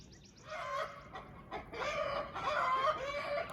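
Chickens under a green roof coop cluck and squawk in alarm, a busy overlapping chorus of agitated calls with one crow-like cry, close by and steady throughout.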